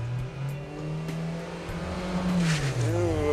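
A Mitsubishi Evolution GSR engine holds a strained, rising drone as the clutch slips during a launch, then revs climb sharply toward the end.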